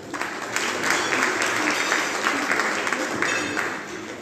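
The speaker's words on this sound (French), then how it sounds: "Je vous demande de l'applaudir." Audience applause at a trophy ceremony in the Comoros celebrating women's empowerment: a dense, even wash of many hands clapping that holds steady for several seconds with no break.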